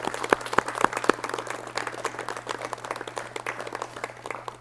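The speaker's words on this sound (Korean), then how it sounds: "박수로 맞이해 주십시오" A studio audience on a 1986 Korean broadcast talk show applauds to welcome a guest: sharp individual claps at first, then a steady, moderately distant patter of many hands that continues throughout.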